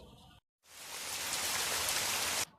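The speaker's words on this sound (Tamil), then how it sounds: "என்ன இருந்தாக்குல திடீர்னு மழை பெய்யுது" Sudden heavy rain pours down at a market, a steady loud hiss of drops on surfaces that swells in after a brief silence and holds evenly before cutting off.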